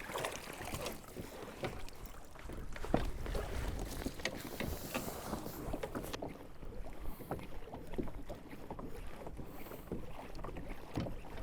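A fishing kayak with outriggers is pedalled across rough, choppy water. Continuous hull splashing and slapping of water mix with gusty wind buffeting the microphone, and no one speaks.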